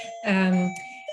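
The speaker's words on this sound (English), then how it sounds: "Sorry for my doorbell, everybody." A home doorbell chimes with a sustained, ringing electronic tone. It swells briefly and then fades under the quiet room sound of an online talk.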